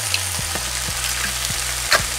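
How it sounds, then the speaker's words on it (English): Eggs frying in a hot skillet for a leftover potato and egg hash, a steady close sizzle with a few soft scrapes and taps of stirring, no voices. "And then I'm going to add eggs."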